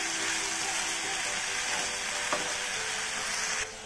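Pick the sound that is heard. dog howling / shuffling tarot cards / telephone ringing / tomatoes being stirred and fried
tomatoes being stirred and fried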